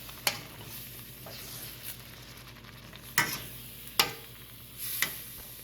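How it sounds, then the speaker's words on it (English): A milk sauce gently boils in a pan under a faint, steady bubbling hiss, broken by a few sharp clicks and scrapes as a utensil stirs against the pan at irregular intervals. "And then I'll just gently boil it, release it, and it thickens."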